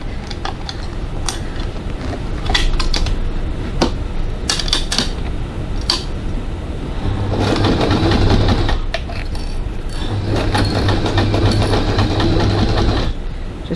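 A sewing machine running in close bursts while stitching a fabric crossbody bag, its rapid rattling needle hum broken by pauses and small clicks.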